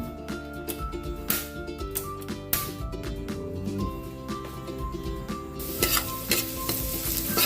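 Chopped garlic (bawang) sizzles and fries in a hot pan for a chopsuey dish, with a spatula stirring and scraping in frequent knocks over a steady, close crackle that grows brighter toward the end.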